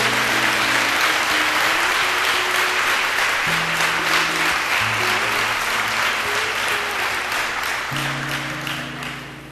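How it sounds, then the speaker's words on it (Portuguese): A church congregation applauds loudly and steadily for the whole stretch, with sustained keyboard or organ chords playing underneath, before the clapping begins to fade near the end. "Você pode aplaudir bem forte a palavra do Senhor?"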